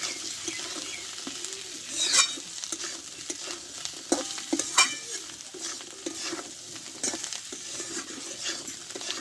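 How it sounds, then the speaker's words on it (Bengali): Pea and potato curry with fresh coriander leaves being stirred in a pan, giving a soft continuous sizzle with irregular scraping and tapping from the utensil, moderately quiet and without talk. "ধনের পাতাটা দেওয়ার পর আমি কিছুক্ষণ আমি নাড়াচাড়া করে নেবো"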